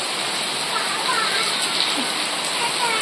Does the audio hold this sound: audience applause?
no